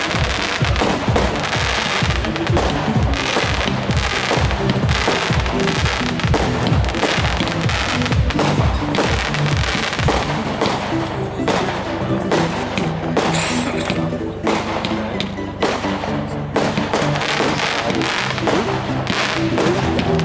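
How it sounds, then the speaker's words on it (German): A fireworks battery of 49 shots at 20 mm calibre fires a long, rapid volley of loud launches and bangs, dozens of shots in a steady rhythm, with crackling bursts throughout. "Die nächste Batterie in F2, die Signature Range mit 49 Schuss im Kaliber 20 mm."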